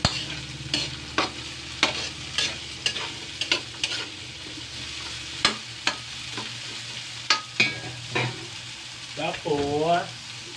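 Carrots and ham fry in a pan, with a steady sizzle broken by repeated sharp scrapes and clacks of stirring, close and fairly loud, no voices.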